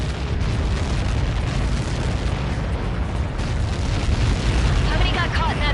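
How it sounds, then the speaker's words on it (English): A massive explosion in the jet combat game Ace Combat 7 rumbles as a sustained, loud, broadband roar that fills the whole span without letting up. "How many got caught in that explosion?"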